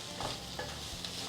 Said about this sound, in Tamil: சவ் சேர்த்துட்டு மீடியம் ஃப்ளேமில் 5 நிமிஷம் நீங்கள் வதக்கணும்